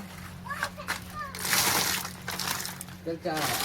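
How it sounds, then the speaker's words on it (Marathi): Dirty, foul-smelling water drains out of an air cooler in splashy, sloshing gushes, heard close up while people talk over it. "किती गंद पाणी निघत आहे"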